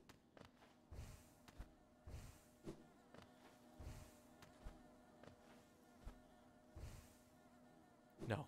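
Buzzing bees swarm in the Hollow Knight video game, an insect drone running under a string of regular soft thuds and impacts, with a louder burst at the end.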